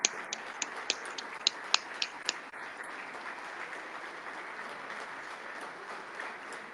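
Faint, distant applause from a legislative assembly floor, carried over a remote audio call, with a few sharp nearby claps at the start before a steady, muffled wash of clapping continues throughout.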